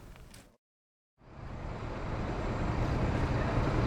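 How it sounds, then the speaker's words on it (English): Truck engines running at an RV park, a steady low rumble that cuts out briefly then returns and swells gradually, sounding close and continuous with no voices over it. "All the trucks started up. I think they're getting ready to pack up and leave or something."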